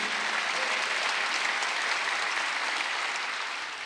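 A congregation at a Wednesday church service claps in a dense, steady burst of applause, loud and sustained for a few seconds and tapering slightly at the end.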